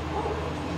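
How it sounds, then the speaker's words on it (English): Two dogs barking and yipping in a short, dense burst with some whimpering, close and loud against a busy background. "There's two dogs now."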